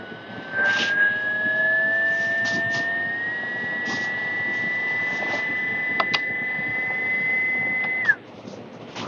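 A Timemore Sculptor 078S coffee grinder motor runs at its highest RPM, a steady close whine with a rising high tone that holds level, then cuts off abruptly near the end.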